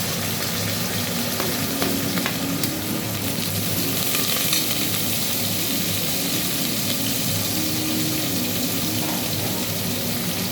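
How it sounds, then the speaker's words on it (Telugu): Mint, coriander and curry leaves frying for tomato rice give a steady, close sizzle with faint stirring scrapes, continuous and fairly loud throughout with no talking. "దాన్ని కూడా బాగా ఫ్రై అవ్వాలి. మంచిగా ఫ్రై అవ్వాలి."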